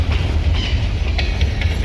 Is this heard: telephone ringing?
no